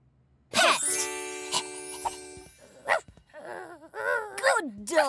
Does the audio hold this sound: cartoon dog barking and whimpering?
yes